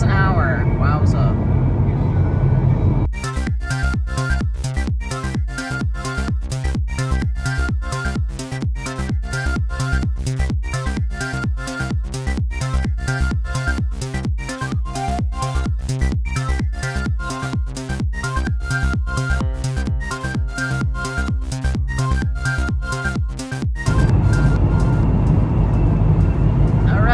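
A broken Ford Mustang cruising on a highway at 80 mph gives a loud, steady road-and-engine drone. Through the middle stretch a rapid, rhythmic pulsing rides over the drone, and the plain roar returns at the end.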